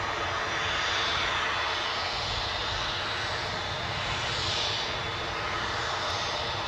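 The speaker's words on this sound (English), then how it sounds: "We just got this Jet2 off to Bodrum." A Jet2 airliner departs Newcastle International Airport, its engines a loud continuous roar that swells and fades slightly over several seconds, heard from a distance outdoors.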